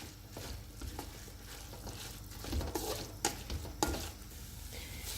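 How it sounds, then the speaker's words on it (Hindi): A spoon stirs carrot halwa with ricotta cheese in a pan, soft scraping strokes over a low sizzle, with a few sharper clinks of metal against the pan. "अभी कुछ देर तक मैं इसमें चमचा चलाती रही हूँ।"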